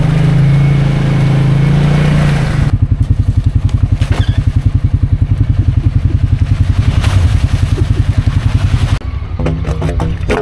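A Pioneer off-road side-by-side engine revs hard and loud through slippery clay mud, dropping into a rapid, throbbing, pulsing drone that holds steady before easing off near the end.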